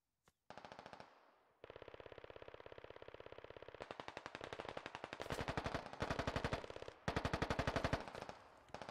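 Automatic weapon fire in Squad, a tactical military video game, sounds as long rapid bursts of close machine-gun shots in steady rhythm, growing louder across several sustained volleys with brief pauses, and no talk.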